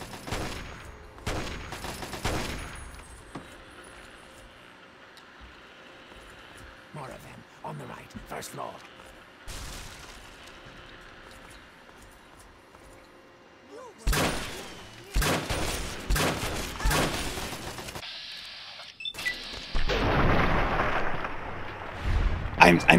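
Bursts of gunfire from Fallout 3, with scattered shots early on and denser volleys of rapid fire and blasts later, loud and layered over game ambience.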